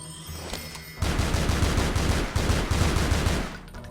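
An MP5 submachine gun in the video game Tomb Raider: Legend fires a sustained, rapid burst of loud, close gunshots lasting about two and a half seconds, with a brief stutter midway and no talking.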